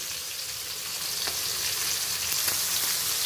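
Hilsa fish fry in oil with a constant, soft crackling sizzle, and faint pops rise out of it now and then.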